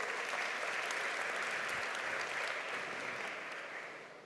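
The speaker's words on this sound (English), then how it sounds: "Round of applause for that question." An indoor audience at a talk event applauds, a dense, even wash of clapping that holds steady and then starts to fade toward the end.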